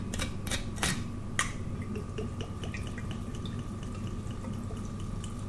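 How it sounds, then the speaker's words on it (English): Gin is poured into a jar of sloes with a light, close trickle and scattered drips. A few sharp clicks from the bottle and jar come early, and no one speaks. "let's undo the gin and pour it in"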